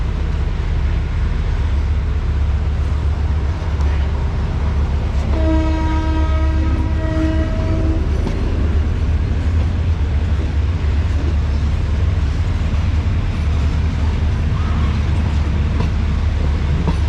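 A Thai train at Hat Yai station sounds a long horn blast for a few seconds over loud, constant rumbling of the train and station noise, close and continuous.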